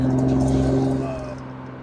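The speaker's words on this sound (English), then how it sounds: "It's an axle-back exhaust" Lexus RC 350 with an aftermarket axle-back exhaust, a strong steady engine drone heard during a drive, loud and close at first, then easing off and fading as revs drop.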